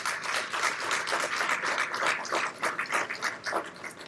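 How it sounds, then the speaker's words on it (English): A banquet audience gives its sponsors a steady round of applause, dense hand clapping from a sizable crowd lasting a few seconds without any talk. "Let's give them all a big round of applause."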